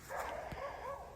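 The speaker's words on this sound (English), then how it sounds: "There's like a dog off in the distance that keeps barking" A dog barks repeatedly far off in the distance near a secluded, abandoned car collector's home, faint and thin against a steady outdoor background.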